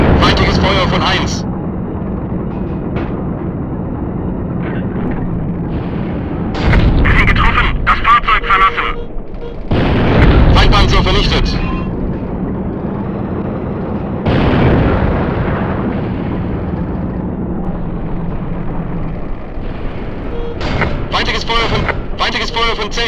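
Tank cannon fire in the video game Panzer Front, several loud booming blasts with rumbling tails spaced through the scene, heard alongside game radio chatter and a speaking voice.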